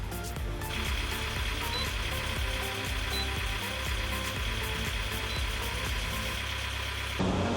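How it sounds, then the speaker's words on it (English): A sailing boat's engines run under their own power after a lightning strike, giving a steady, close drone with a constant mechanical hum throughout, cutting off abruptly near the end. "You can hear the engines are running behind me."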